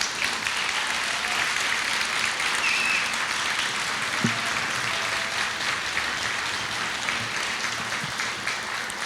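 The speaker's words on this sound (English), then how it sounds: "Please give them your applause." An awards ceremony audience applauds steadily for a full stretch, a dense, loud wash of many hands clapping at once with no talk over it.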